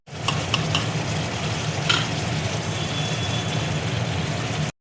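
Rice is tipped into fried spice masala with Kashmiri chilli powder in a pot for a pulao and stirred: a continuous close sizzle and frying hiss with a few sharp scrapes of the spoon near the start.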